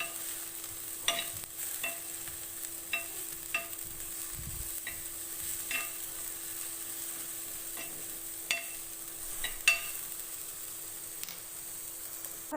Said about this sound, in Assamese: যেতিয়ালৈকে ৰংটো অলপ সলনি নহয় তেতিয়ালৈকে অলপ সময় এনেকৈ ভাজি থাকিব।